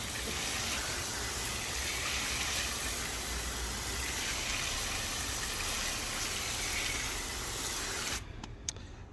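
A hose sprays water onto a car wheel coated with ceramic wheel cleaner, a loud continuous hissing gush at close range that cuts off abruptly near the end.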